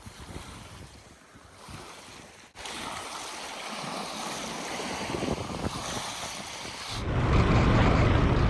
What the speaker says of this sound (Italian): Mi godo questo momento semplice, seduto sullo sterrato, con il rumore delle onde come sottofondo.